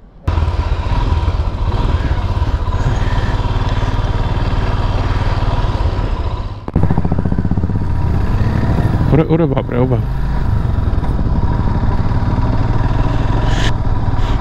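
Motorcycle engine running on a desert road in Gujarat's Rann, a steady loud drone throughout with a brief dip midway, while people talk and exclaim over it.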